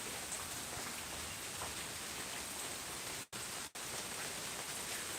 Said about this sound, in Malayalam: ഏകദേശം ഭൂമി തണുക്കുന്ന മഴ പെയ്തിട്ടുണ്ട്